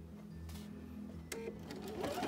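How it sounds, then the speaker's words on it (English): A Husqvarna Viking sewing machine stitching quilt binding with a 5/8-inch binder attachment, a steady close mechanical whir running throughout the short stretch. "Put my needle down and then start sewing."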